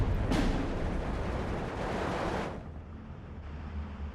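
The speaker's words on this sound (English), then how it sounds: "Look at all of these units firing at will. So many mortars." Massed mortars and units firing in the WW2 strategy game Steel Division 2, a dense rumbling wash of distant blasts and battle noise that thins out partway through.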